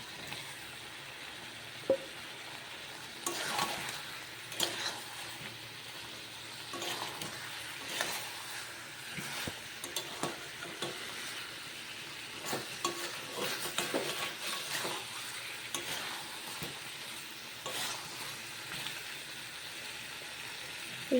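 Mutton with fried potatoes being stirred in a cooking pan, a steady low sizzle under repeated scraping strokes of a spoon that come in irregular bursts throughout, close and moderately loud, with no one speaking.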